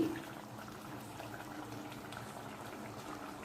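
Palak paneer curry bubbles and simmers in a pan, giving a steady, soft, close bubbling texture with scattered small pops that run evenly throughout, with no talk.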